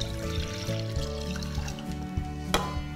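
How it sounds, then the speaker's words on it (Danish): Apple juice poured into a cooking pot, a continuous liquid pour and trickle close by, with a brief clink near the end and no talk. "Og så tager jeg min æblesaft, og den hælder jeg op i en gryde."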